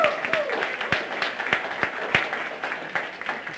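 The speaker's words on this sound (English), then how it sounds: "give him a nice round of applause." An audience at a historic preservation talk applauds, a scattering of distinct handclaps with faint crowd murmur and some talking mixed in, moderately close.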